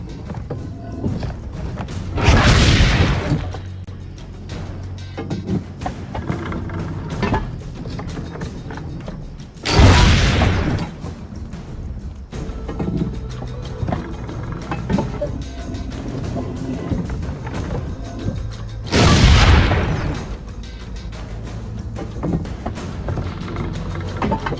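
Cannon fire in Assassin's Creed Brotherhood at Monteriggioni villa: three heavy booming shots spaced about eight seconds apart, each a loud broad blast that decays into a low rumble over quieter game ambience.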